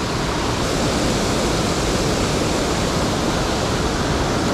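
A wilderness trout creek rushes past close by, a loud, steady broadband roar of flowing water that holds constant throughout with no voices.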